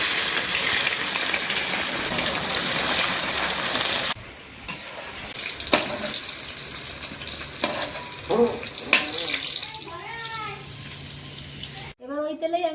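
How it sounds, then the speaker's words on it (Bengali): Jackfruit pieces fry in white oil, with a loud continuous sizzle at first, then quieter intermittent frying and stirring, ending with brief voices near the close. "এবার আমি ইঁচড়টাকে ভেজে নেব।"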